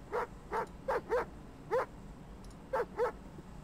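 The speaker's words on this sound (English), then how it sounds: "And you can click on him and he barks." A dog barks in the tank game World of Tanks, with seven short, evenly spaced woofs over a quiet background. The barks sound fairly close and come in small groups with brief pauses.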